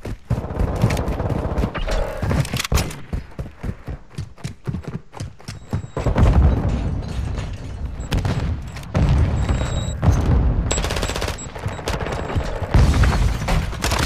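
Rapid video-game gunfire crackles in dense bursts, loud and close, with short pauses between volleys and faint background effects.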